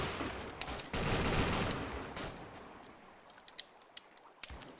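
Viet Cong gunfire in an Arma 3 Vietnam defensive battle, a loud volley of rapid shots that fades into scattered, sharper single cracks at a distance.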